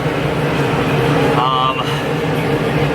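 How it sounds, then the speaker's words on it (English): A steady, loud broadband whir of a running space heater fills a car workspace during Honda EK Civic painting work, with a brief quieter dip midway and faint voice-like tones. "I got the space heater on right now."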